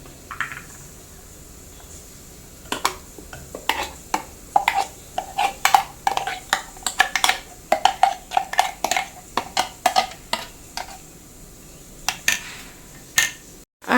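Ground coconut paste, mango, tomato and water are stirred together in a pot for a mackerel and drumstick curry. The spoon makes a quick, uneven run of close metallic clinks and scrapes against the pot.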